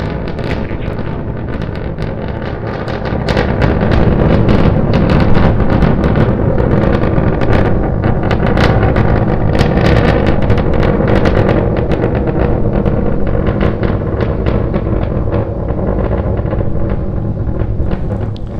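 SpaceX Starship test flight climbing on two engines toward a 10-kilometer altitude, a steady, dense roar with crackling bursts throughout, growing slightly louder after the first few seconds and holding without talk.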